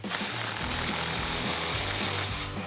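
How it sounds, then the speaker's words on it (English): An impact tool tightens an exhaust clamp on a Ford F-150 dual exhaust system, making a loud, continuous buzzing hammer that ends abruptly just before the clip finishes. "we're gonna tighten our clamp down here"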